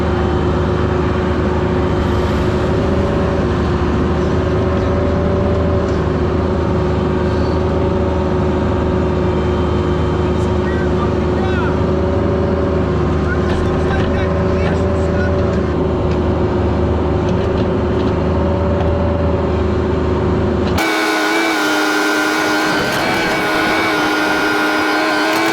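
A mini excavator digs near a pole at a radio station in Lancaster, Pennsylvania. Its engine drones loudly and steadily for about twenty seconds, then the sound drops away abruptly to quieter ambience.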